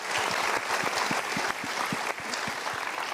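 An audience claps steadily in a large hall for a few seconds, with loud, sustained, even applause and no talking over it.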